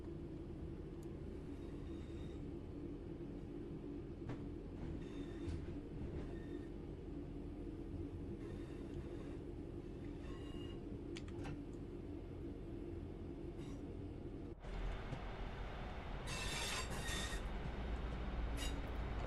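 A train rolls along the West Coast Main Line toward Crewe in Train Sim World 6, with a steady rumbling drive and wheel noise throughout. A sharp change partway through brings brighter rattling and squealing.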